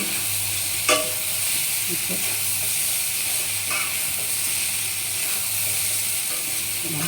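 Soybean chunks stir-fried with spices in a pan give a steady, close sizzle, with a sharp spatula scrape near the start and a few softer scrapes after it. No one talks.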